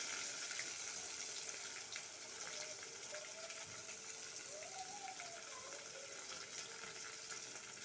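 Ginger, garlic, curry leaves and green chilli fry in hot oil for a rambutan pickle, giving a steady, soft sizzle that holds evenly throughout without talk.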